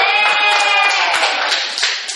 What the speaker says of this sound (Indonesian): Tepuk tangan dong, Mimin.